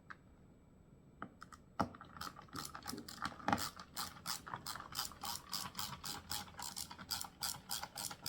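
Phillips head screwdriver driving screws into a steel racing wheel stand, a close, quiet run of rapid ratcheting clicks in quick uneven bursts, following a few isolated knocks at the start.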